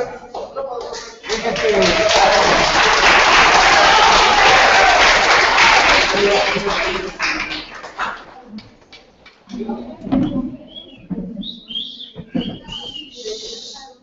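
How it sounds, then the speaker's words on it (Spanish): Applause from an audience at a virtual knowledge-exchange event on water care between Peru and Costa Rica, a dense burst of clapping lasting several seconds and then thinning into scattered claps and voices. "esos aplausos son para ustedes de Un aplauso para"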